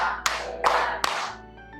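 Three sharp hand claps spaced about evenly in a classroom chant routine, each a crisp slap with a short decay, fairly close and alone without speech.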